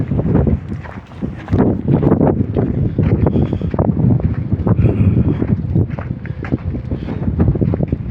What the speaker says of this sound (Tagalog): Mahangin pa.